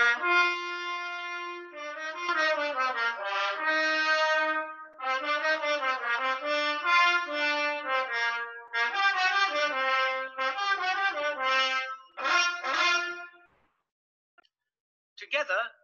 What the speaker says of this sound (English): The trumpets.